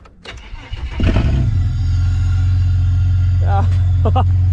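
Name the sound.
supercharged turbo Ford AU Ecotec car engine starting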